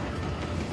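Steady train rumble with faint clickety-clack in a video game set on a moving railway, a continuous dense roar without pause or voices.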